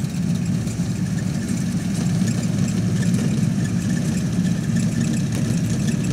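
A core aerator runs steadily on a school lawn, kicking up soil cores, its engine a loud, continuous low drone close by.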